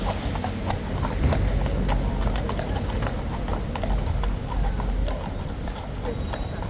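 Police horses walking on pavement near Horse Guards in London, their hooves clip-clopping in a steady overlapping rhythm amid city street noise, fairly close and moderately loud.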